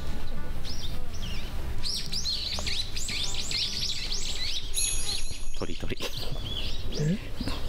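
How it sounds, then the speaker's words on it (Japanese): Birds chirp and tweet in quick repeated calls, fairly close and loud, with people talking underneath and a low rumble in the background. "ああいうふうに鳴く鳥がいる"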